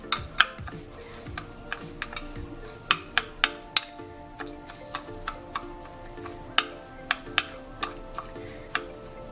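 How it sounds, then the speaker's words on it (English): Homemade sugar lip scrub of white or brown sugar being stirred in a small container, giving a run of sharp, close clicks and taps in an uneven rhythm with no voices. "I'm gonna mix this together."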